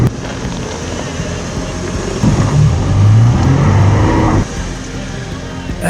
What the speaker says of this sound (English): the mighty FJ is pulling the Prado up the hill